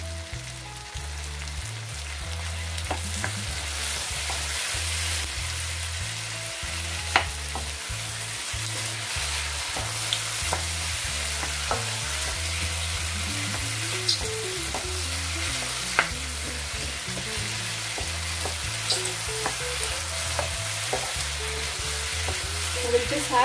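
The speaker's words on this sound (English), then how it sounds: "Just smash it very slowly for a few minutes and then mix all the curry together." Potato curry sizzles in a frying pan while being slowly smashed and stirred, a continuous close frying hiss with scraping and soft knocks of the utensil throughout, no talking.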